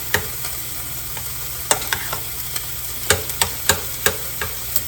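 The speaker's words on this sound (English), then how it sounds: "Let the butter melt." Butter melts in a pan in a home kitchen, a soft steady sizzle under scattered light clicks and taps of a utensil stirring, fairly quiet with no talking.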